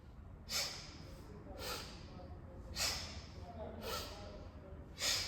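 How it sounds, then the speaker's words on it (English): A person does an active Kriya breathing exercise with forceful breaths, heard as a series of five sharp, breathy nasal bursts at roughly one-second intervals over a faint low background hum, close to the microphone. "start to continue this on your own with those active inhales and exhales"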